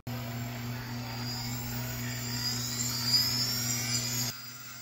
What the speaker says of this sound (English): Now let's spin up the gyro and see how it behaves.